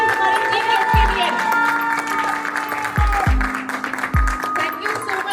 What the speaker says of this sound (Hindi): एक बार जोरदार ताली जितने भी हॉल में हैं, प्लीज हमारे टीम के लिए